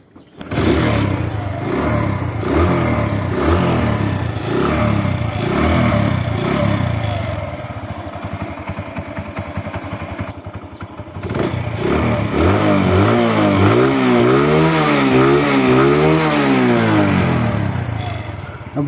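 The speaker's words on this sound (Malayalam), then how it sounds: "ഇനി വണ്ടിയുടെ എൻജിൻ സൗണ്ട് നമുക്കൊന്ന് കേട്ട് നോക്കാം." An old Honda CD Dawn motorcycle's engine idles and is revved repeatedly nearby, loud rhythmic putters rising and falling through throttle blips, with a brief lull before more revving.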